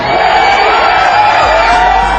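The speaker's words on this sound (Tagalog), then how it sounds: "Doble naman ang sigaw ng mga fans pagpasok ni Pacman." Boxing fans roar and cheer as the boxer enters the arena, a dense, loud, continuous crowd wall of shouts and whoops with no break.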